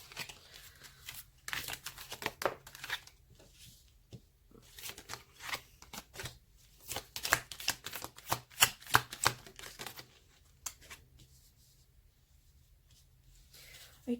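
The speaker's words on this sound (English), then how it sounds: "So let's just shuffle them." Tarot cards shuffled by hand at close range, a series of quiet riffling and sliding bursts that come in uneven clusters with short pauses between them.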